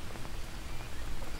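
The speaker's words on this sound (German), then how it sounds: "Es regnet wohl immer noch" Steady rain pours down in the jungle survival game Green Hell, a dense continuous hiss of drops hitting the ground and foliage, fairly close and even throughout, with no voices over it.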